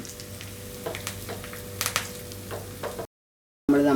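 Chopped onion frying in hot oil for a Kerala-style tomato curry, a steady soft sizzle with scattered pops and crackles, close and moderately loud, cut by a brief silence before a louder burst of sizzling at the end.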